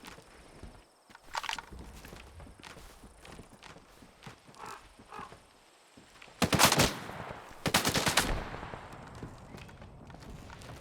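Enemy gunfire in S.T.A.L.K.E.R. 2: Heart of Chornobyl comes as sharp isolated shots, followed by two loud rapid bursts a couple of seconds apart.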